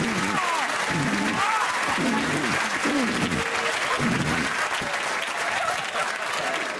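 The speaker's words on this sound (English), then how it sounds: "give him a round of applause, eh?" Studio audience applause on a British comedy game show, steady broadband clapping sustained throughout at moderate loudness, with some crowd voices and a few cheers mixed in.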